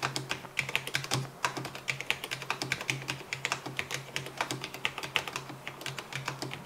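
Typing on a Cherry MX 10.0N RGB low-profile keyboard, a quick, uneven run of soft, close keystrokes with light tapping clicks and no voices, fairly quiet against a faint steady hum.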